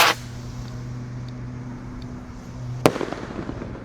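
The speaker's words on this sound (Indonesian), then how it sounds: "di sini ada Gold Dragon roket Roman Candle terbesar. Kita nyalakan ya." A large Gold Dragon Roman candle firework goes off outdoors with a sharp initial pop and a steady hiss. A loud bang follows, trailed by crackling bursts.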